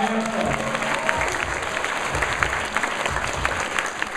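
A live audience at a competitive team show applauds both teams with dense, sustained clapping that fills the room evenly throughout.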